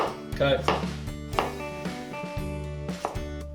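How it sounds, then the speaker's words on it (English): A knife chopping peppers on a cutting board, a brisk run of close, dull thuds in an uneven rhythm, with no talk over them. "Now we're going to do the same thing for these peppers that we just did for the onions, except here we're going to do a cut."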